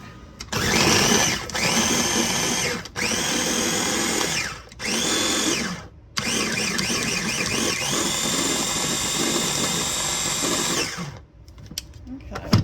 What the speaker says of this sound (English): we're going to take this over and blend it up